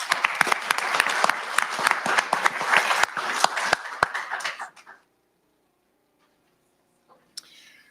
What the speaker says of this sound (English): A round of applause for Mr. Connor Driscoll.